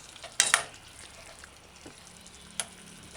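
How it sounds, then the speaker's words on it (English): A spoon stirring tomato stew in a cooking pot gives a few sharp clinks and scrapes over a soft, steady simmering hiss. No one speaks. "Alright, so stirring, you gotta allow the tomato to break down before adding water"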